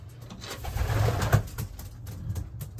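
Racing pigeons coo in low, throaty murmurs close by, overlapping with fluttering and shuffling noises inside a loft.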